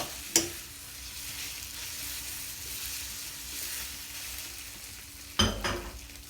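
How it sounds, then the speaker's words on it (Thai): Marinated pork is stir-fried in a wok, with a steady sizzle and frying hiss throughout and two sharp utensil clanks, one near the start and one near the end. "หมูที่เราหมักแล้วเนาะใส่ลงไป รวนไปสักพักนะครับผม"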